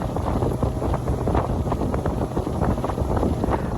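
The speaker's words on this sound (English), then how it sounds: "A little windy today." Steady wind buffets the microphone over the low rumble of a cruise boat moving through water off Chincoteague Island, Virginia, loud and constant throughout.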